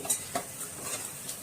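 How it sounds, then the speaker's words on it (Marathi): Spice tempering of red chilli powder and masala sizzles in hot oil in a pan for a vegetable curry of green peas, potato and cauliflower, with soft stirring scrapes and a few faint clinks, close and steady, no talk. "बघा आपली फोडणी छान तयार होते"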